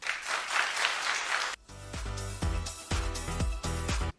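An audience claps in a dense, brief burst lasting about a second and a half. Sharp rhythmic tonal thumps follow in a regular pattern.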